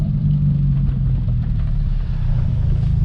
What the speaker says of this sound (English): go to second gear, give it a little bit of gas while you lay out the clutch